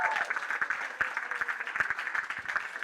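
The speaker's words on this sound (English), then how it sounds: "let's just give one more huge round of applause to everybody who performed tonight" An audience at a stand-up comedy show applauds the performers with fairly faint, continuous clapping heard from a distance.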